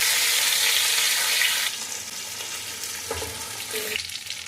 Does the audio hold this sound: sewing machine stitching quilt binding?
no